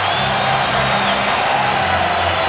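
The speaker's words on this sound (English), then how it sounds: "And now the crowd has come alive." A basketball arena crowd at a 2002 Lakers versus Blazers playoff game roars steadily, a dense wall of cheering and shouting with no break.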